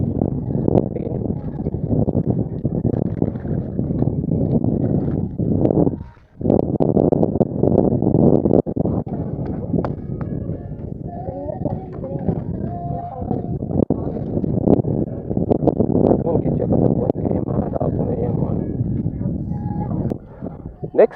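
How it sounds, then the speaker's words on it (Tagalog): Strong wind buffets a microphone outdoors during a small drone's test flight, a steady low roaring rumble that briefly drops out once partway through. "Lakas ng hangin."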